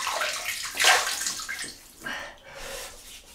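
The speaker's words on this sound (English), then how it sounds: "I'm gonna rinse the face" Water splashes and sloshes as a man rinses his face at a basin before a shave, in a few close, uneven bursts with no talking.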